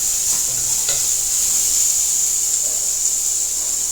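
Mango rasam with turmeric powder stirred in a pan, a steady hiss and sizzle from the hot pan running throughout with a few soft scrapes of the spoon early on, close and fairly loud, no voices.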